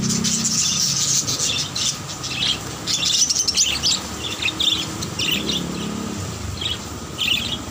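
Busy birdsong fills the air, many birds chirping and tweeting in overlapping bursts, fairly close, with a low outdoor rumble underneath.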